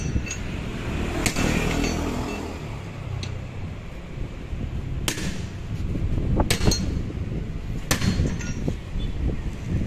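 Sharp metallic strikes ring out at irregular intervals while a motorcycle's front tire is being removed, each hammer blow standing clear over a steady background of traffic and workshop noise.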